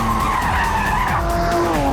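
A Singer-modified classic Porsche 911 braking hard at a track hammerhead, tires skidding and squealing loudly and steadily throughout a short, close burst with engine noise underneath.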